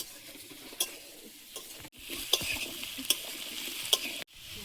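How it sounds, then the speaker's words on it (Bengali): Potatoes fry in a pan with a steady close sizzle, punctuated by a few crisp spatula scrapes and taps as they are stirred, with brief pauses in between. "আলুটা ভাজায় প্রায় সেদ্ধ হয়ে গেছে"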